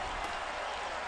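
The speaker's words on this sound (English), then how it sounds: "Clapping is crazy." Steady, dense crowd clapping from Tony Hawk's Pro Skater 2X game audio, a loud, even wash of applause that holds throughout without pause or voices.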